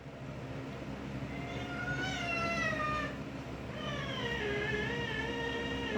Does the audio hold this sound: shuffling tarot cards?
no